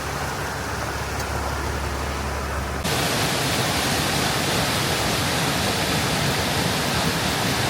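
Creek tumbling down a mountainside near Gatlinburg, a steady, dense wash of rushing water that grows fuller and louder partway through and carries on without pause.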